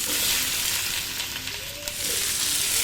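Onions frying in oil with biryani masala mix and bay leaves for Hyderabadi chicken dum biryani, a steady close hiss of sizzling with faint stirring, no talk.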